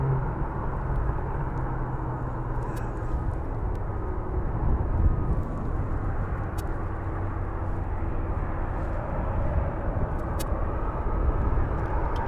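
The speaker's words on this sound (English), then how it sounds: "And another aircraft on the approach right now." A plane on approach to East Midlands Airport rumbles steadily and loudly for the whole stretch, a broad continuous engine roar with no voices.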